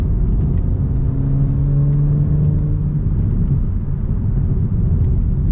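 A BMW E92 335is with a DCT gearbox drives along with a deep, steady engine drone and low rumble from inside the cabin, tone rising gently as it accelerates, with faint road noise.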